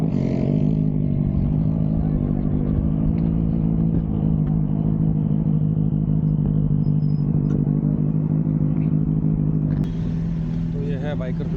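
A Honda H'ness motorcycle idles and rumbles steadily up close as it is ridden in and parked at a cafe, the engine note dropping slightly near the end with faint clatter.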